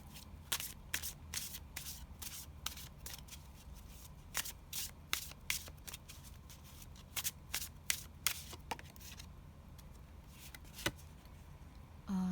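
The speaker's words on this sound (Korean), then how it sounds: "오라클 카드를 뽑아볼게요" Oracle cards being shuffled by hand: a steady run of soft, quick riffling bursts, close and fairly quiet, with no talking.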